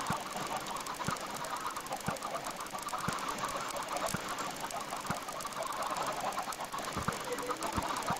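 Video game chickens clucking: soft, busy clucks and chatter from a flock of birds over a steady hiss, with faint regular ticks underneath and no talking.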